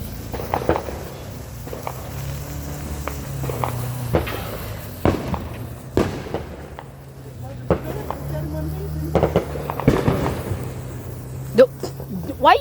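Fourth of July fireworks and firecrackers popping outdoors in a scattered series of short cracks and bangs, some near and some quieter, with people talking over a low steady background hum.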